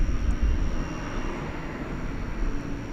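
American Airlines Boeing 737-800 in AirCal heritage livery at DFW Airport at night, bound for Reno, producing a steady, continuous jet engine roar with broad low rumble, moderately loud and unbroken throughout.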